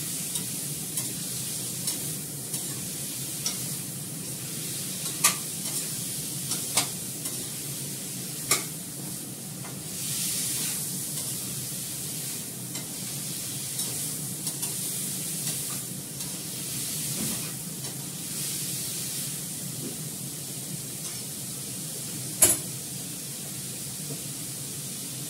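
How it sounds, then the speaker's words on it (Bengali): Vegetable curry sizzling steadily in a pan as it fries down with turmeric, sugar and salt, with occasional sharp stirring scrapes over a constant low frying hiss, moderately quiet and without talk. "হলুদ আর চিনি আর নুন দিয়ে আমি এটাকে ভালো করে কষিয়ে নেব।"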